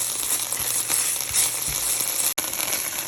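Tomato sauce poured into a hot pan already holding anchovies, giving a loud, steady close-up sizzle and crackle that carries on unbroken, with a brief cut-out near the end.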